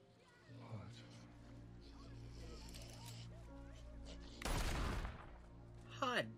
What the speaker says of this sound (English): Hot damn, John's a good shot.